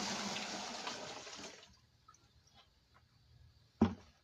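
Water that has been filtered through a cloth is poured out in a steady, full rush for about a second and a half. It then falls to near quiet, with one sharp knock just before the end.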